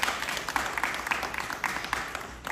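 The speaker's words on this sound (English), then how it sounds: "I would like the graduates to take a moment to applaud their family and friends" Graduates at a commencement ceremony clap for their family and friends, a steady, moderately distant applause from a crowd filling the hall without any talk.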